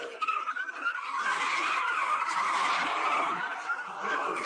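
A car pulls away with loud, sustained tire squeal and skidding, a harsh screech holding strong for several seconds as it drives off.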